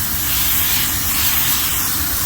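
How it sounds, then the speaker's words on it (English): A steady, loud spray of water rinses a dirty walk-in freezer coil, a continuous close hiss with no pauses and no voices. "we're being careful not to spray direct into the motor"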